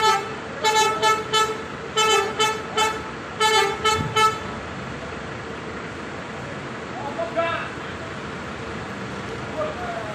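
A luxury intercity bus from the Sudiro Tungga Jaya fleet pulls away, sounding its multi-tone horn in several bursts of rhythmic toots over a steady engine rumble, then the horn stops and the engine keeps running.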